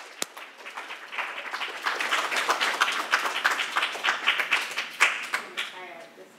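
Audience applause for poet Lily Kaylor Honoré at a poetry reading, opening with a sharp clap, then swelling into steady clapping from a modest crowd before tapering off at the end.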